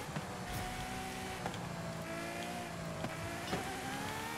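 A Ferrari FXX-K EVO hypercar on a lap in Forza Horizon 5 gives a steady, fairly quiet engine drone with rising and falling tones from gear changes and small clicks, no talk.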